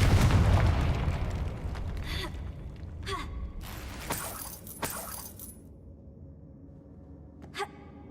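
Confringo explosive spell cast in the Hogwarts Legacy video game, a loud blast burst followed by a fading rumble and scattered crackling, debris-like hits, with a short final pop.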